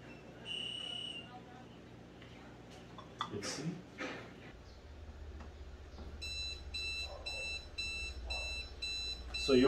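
An Aqara water leak sensor sounds its alarm, a run of short, regularly repeated high beeps in the second half, over background room noise with a low hum.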